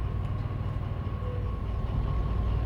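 A DE6 diesel locomotive rolls along the track in the railway game Derail Valley, giving a steady low rumble with a faint tonal hum running throughout, unbroken and fairly close.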